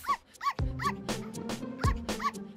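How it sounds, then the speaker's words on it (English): In an animated tobacco-prevention PSA, a cartoon dog barks and yips in short bursts with whimpering between them, over a low musical bed with a few thuds. "There once was a dog named Ruff,"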